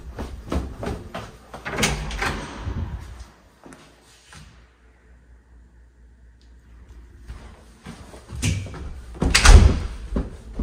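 A door in a townhome's downstairs, near the garage and back door, gives several sharp knocks and clatters early on, then a quiet stretch, then more handling thumps and a loud bang near the end.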